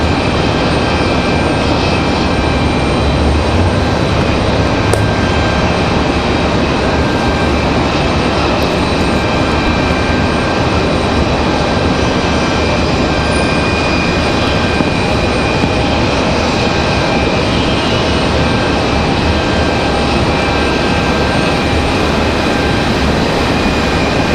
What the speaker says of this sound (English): Got that APU running, of course.